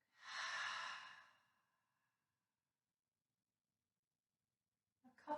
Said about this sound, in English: and then exhale back.